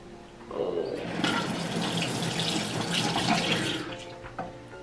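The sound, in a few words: water running from a tap for washing a face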